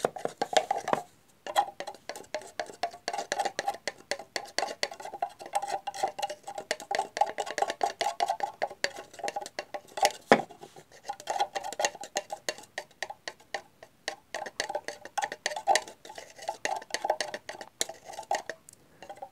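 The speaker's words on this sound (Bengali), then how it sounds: "এভাবে এটা মিশ্রণটা করে নেব।" Brush or spoon scraping and tapping in a small dish while orange paint is mixed with a touch of yellow for a paper craft wall hanging, a steady busy clatter with no talking.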